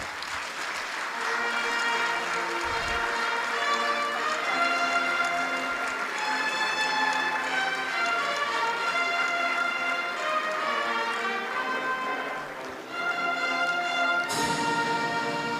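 Loud, sustained applause from a large audience fills a government ceremony in honour of the President as public institutions hand over 1.327 trillion in revenue, with steady musical tones running underneath and a brief dip near the end.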